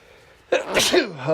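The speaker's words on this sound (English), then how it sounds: "Sneeze." A single sudden sneeze bursts out close and loud after a brief quiet lead-in, followed by a short breathy trailing sound.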